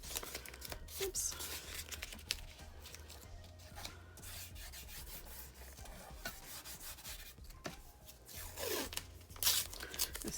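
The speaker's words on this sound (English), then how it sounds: "This tape really likes to tear." Masking tape tears and rubs in short ripping bursts during a resin and alcohol ink masking job, fairly faint and close, with a few louder pulls near the end and some background talk.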